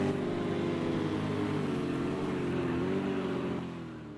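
GT race cars on the Oulton Park circuit, a steady loud engine drone with harmonic whine sweeping gently in pitch as the cars pass and carry on, fading slightly at the end.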